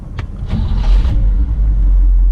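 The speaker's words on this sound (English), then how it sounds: "Car starts right up, runs great." A 1960 Cadillac Coupe DeVille engine cranks briefly and catches, then settles into a loud, steady low rumble close by.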